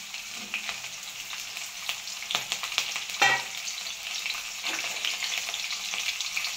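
Urad and chana dal frying in a pan as green chili is dropped in: a steady, close sizzle with light stirring scrapes and a brief louder crackle burst midway, with no voices.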